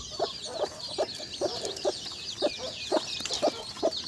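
A native country hen clucks beside her small chicks, sharp rhythmic clucks roughly twice a second, close and clear, with faint high chick peeping underneath.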